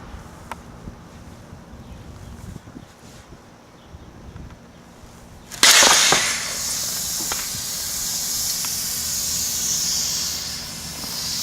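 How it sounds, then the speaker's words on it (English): A Hit Air MS airbag mesh jacket fails on inflation: after a quiet, breezy outdoor stretch, pressurized gas suddenly bursts out in a loud, close hiss that keeps rushing steadily to the end. "I can hear the gas valve escaping"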